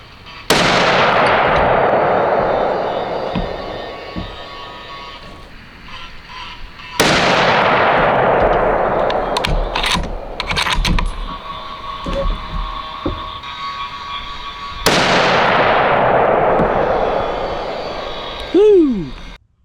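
.30-06 rifle firing 168-grain Federal Premium Berger Hybrid Hunter rounds outdoors in winter: three loud, sharp shots spaced about seven seconds apart, each with a long echoing decay, and brief voice sounds near the end.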